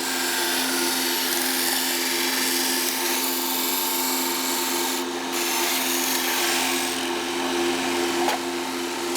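A 6x48 belt sander with a 60 grit belt grinding 1/8 inch aluminum, giving a steady, dense abrasive roar with a constant motor hum, close and loud throughout, without talk.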